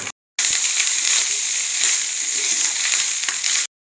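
Rice tipped into a pan of frying vegetables brings a loud, steady sizzle after a brief silence, with a faint crackle near the start, close and continuous for about three seconds.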